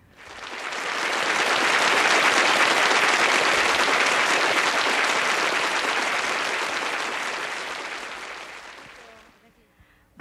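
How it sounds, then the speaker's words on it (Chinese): Audience at a community singing contest for seniors applauding a councillor's arrival, a dense, loud burst of clapping that swells quickly, holds steady, then fades out near the end. "掌声鼓励，谢谢。"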